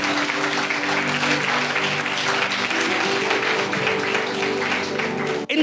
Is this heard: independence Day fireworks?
no